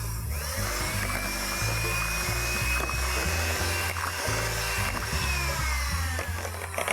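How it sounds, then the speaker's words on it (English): Electric hand blender beating cake batter of flour and other ingredients in a home kitchen. It gives a steady, continuous whir with slight shifts in pitch as the beaters move through the bowl. No one speaks. "Before I turn on the hand blender, I'm just going to move this around so that the flour doesn't fly all over."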